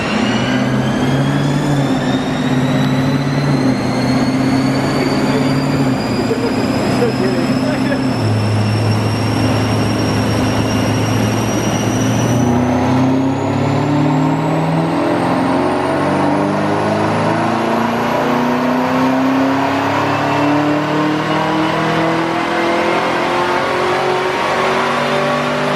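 A 2017 Camaro ZL1 makes a loud dyno pull in 7th gear, its engine note climbing steadily in pitch across the run, with a brief drop before it continues rising to a high roar.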